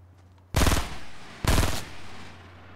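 Two loud bursts of rapid automatic gunfire from the video game Fortnite, each lasting under half a second, heard close and alone.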